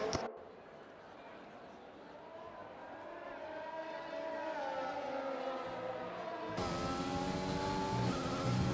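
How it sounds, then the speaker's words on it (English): Formula 1 cars, a Racing Point and a Mercedes, race in a video game on the Spain circuit. Loud, steady engine whines rise and fall in pitch throughout, with a sharp jump in volume and pitch near the end. "Drazzy then on the run up towards someone, breezes down the inside and puts that racing point back ahead of the Mercedes."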